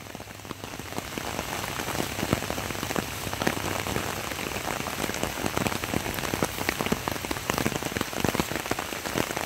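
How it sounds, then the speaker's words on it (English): Steady rain drums on the roof and surfaces of a vehicle pulled over by a roadside, a dense, continuous patter that stays even and fairly loud throughout with no voices. "it starts to rain on me"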